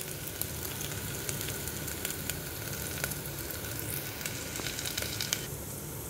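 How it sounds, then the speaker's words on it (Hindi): Onions sizzle and brown in a pan over medium heat, a constant close crackling hiss with scattered small pops and no voices. "अब पूरी तरह से प्याज को ब्राउन करेंगे। थोड़ा मीडियम सेक ही रखा है हमने, पूरा तेज नहीं किया है,"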